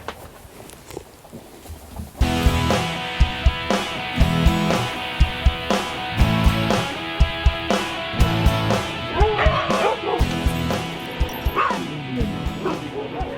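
Sled dogs at a race checkpoint during a winter mushing event yip, bark and whimper over a steady din of many dogs, with sharp close barks standing out throughout.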